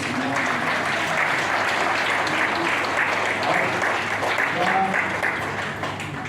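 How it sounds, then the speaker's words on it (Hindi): Loud, sustained applause from a large audience at a Yoga Day event, thick continuous clapping that swells slightly and then tapers toward the end, with some voices mixed in. "इसके लिए जोरदार ताली बजाएं"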